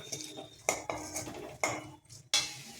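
Taro root (chembu) fry is stirred slowly in a pan over low heat, giving a handful of sharp metallic scrapes and clinks of a spoon against the pan, with short quiet gaps between strokes.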